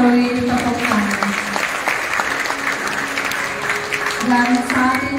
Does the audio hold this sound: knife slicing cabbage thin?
no